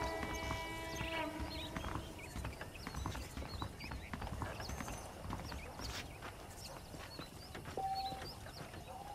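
Horse hooves clip-clopping in the Red Dead Redemption video game, a faint steady walking rhythm of hoofbeats amid quiet ambient outdoor sounds with occasional bird-like calls.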